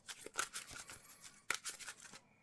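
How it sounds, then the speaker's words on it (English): Playing cards being shuffled into an encounter deck during a tabletop card game, giving a few brisk riffling bursts with sharp clicks near the start and middle, close and fairly quiet. "we are going to shuffle these into the encounter deck"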